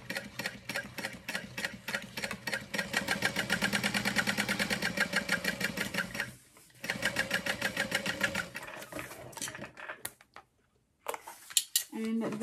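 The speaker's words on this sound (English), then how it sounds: "I'm going to sew across that top edge." A sewing machine stitches across the top edge of a backpack's front slip pocket, a steady close rapid mechanical chatter that pauses briefly, resumes, then stops, with light clicks of handling at the end.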